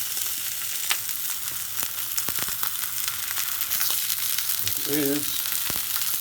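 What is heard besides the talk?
sirloin steak frying in a pan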